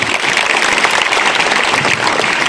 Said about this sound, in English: So clapping should go on.